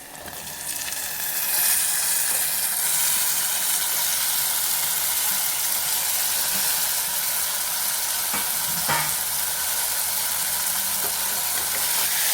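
Tomatoes sizzling in hot oil with ginger garlic paste for a tomato curry, a steady close bright frying hiss with faint stirring clicks, no talk.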